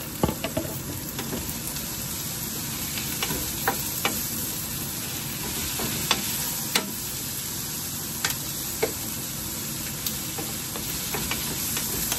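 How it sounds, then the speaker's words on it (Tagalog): Steady sizzling of shrimp and squid frying in a pan, with intermittent scrapes and clicks of a utensil stirring, continuous and close. "halo na rin natin itong shrimp bowl natin at saka yung squid bowl natin"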